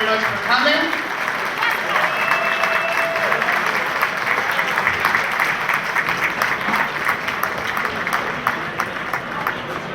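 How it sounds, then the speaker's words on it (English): A fundraiser crowd at a Queens Winter Pride event claps loudly and steadily for elected officials, dense applause holding throughout with a few voices and cheers mixed in. "give our elected officials a big round of applause"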